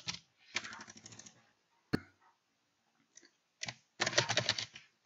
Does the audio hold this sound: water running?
no